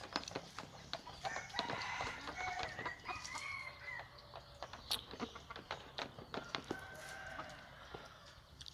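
A blind rooster roosting in a tree, crowing in long rolling calls at a moderate distance, with other fowl clucking and crowing around it in a quiet outdoor setting.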